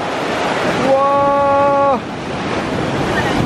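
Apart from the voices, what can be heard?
ocean waves and surf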